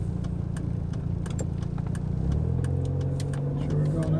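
A Saab 9000 Turbo's engine drones steadily from inside the car while driving, holding a low hum that swells slightly partway through as the car accelerates, with no talk over it.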